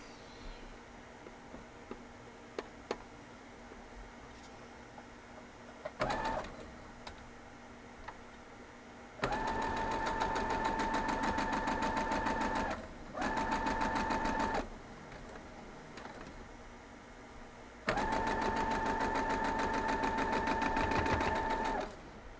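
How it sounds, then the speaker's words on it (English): Sewing machine stitching star quilt block pieces, running in three bursts of steady rapid whirring separated by quiet pauses with faint handling clicks and rustles. "I'm going to hold it like this and sew it down through"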